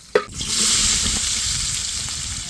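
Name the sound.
onions frying in oil in a saucepan for curry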